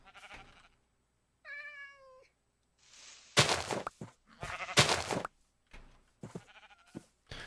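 A Minecraft cat lets out one short, wavering meow, followed by several loud noisy bursts and scattered clicks from the game.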